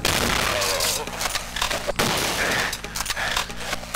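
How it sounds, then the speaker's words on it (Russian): Gunfire aimed at the player in DOOM comes as a rapid, dense barrage of shots over a low hum, with faint voice-like sounds mixed in. "Кто-то вообще стреляет в меня."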